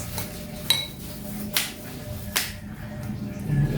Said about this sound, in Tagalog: Okay, halo-haloin lang natin,